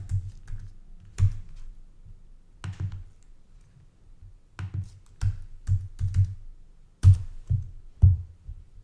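Zip codes are typed on a computer keyboard in short bursts of close, soft key taps with brief pauses between groups, and no talking.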